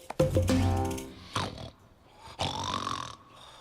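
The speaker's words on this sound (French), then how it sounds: "Quel ronflement!" Loud rumbling snores, a long rattling inhale followed by breathy wheezes, close up and unaccompanied by talk.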